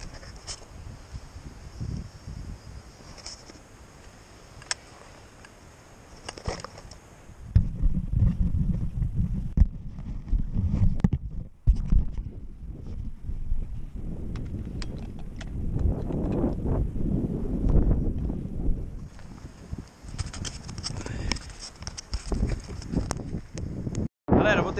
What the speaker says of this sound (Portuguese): é muito vento, vocês estão escutando